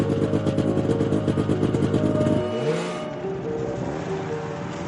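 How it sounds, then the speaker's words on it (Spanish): A motorcycle engine revs hard at a sports riding event, a steady buzzing roar that drops in pitch partway through and then fades as it pulls away, with no talk over it. "Ha cogido la moto de Brett Tercott."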